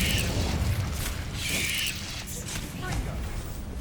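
Incendio fire spell cast in Hogwarts Legacy: broadband whooshing bursts with a low rumbling boom and mechanical clatter, loud and close, surging twice over a constant game-noise bed.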